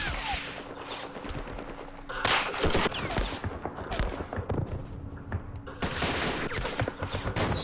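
Bursts of rapid gunfire and explosions in the Vietnam war strategy game Campaign Series Vietnam, Dien Bien Phu battle, dense volleys with louder blasts near the middle and end.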